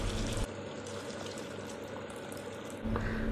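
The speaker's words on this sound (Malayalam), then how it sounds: "അപ്പോൾ രണ്ട് കപ്പ് വെള്ളം ഈ സമയത്ത് ആഡ് ചെയ്ത് കൊടുക്കാം." Two cups of water poured into a pot of frying rice for Kashmiri pulao, a steady hissing rush of liquid that runs on evenly with a louder splash and sizzle at the start and end.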